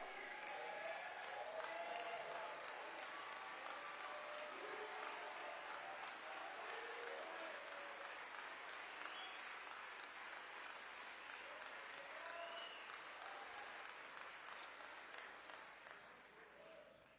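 At Glide Memorial Church, a congregation gives long, steady applause with some cheering, heard at a distance and quite faint, slowly tapering off toward the end.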